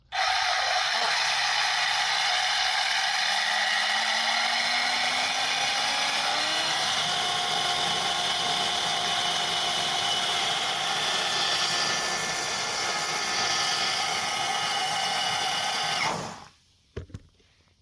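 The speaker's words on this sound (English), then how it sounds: "Thousand and 50 kV motor test, let's go." A 1050 kV brushless RC motor spins up with a loud, close whine that rises in pitch over several seconds, holds a steady high drone for about sixteen seconds, then cuts off abruptly, leaving near silence.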